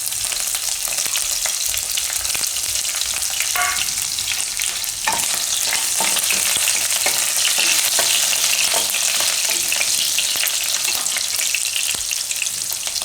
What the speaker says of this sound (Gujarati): તો આમાં આપણે તેલ ગરમ મૂક્યું છે, તો એમાં આપણે નાખીશું લીલા મરચાં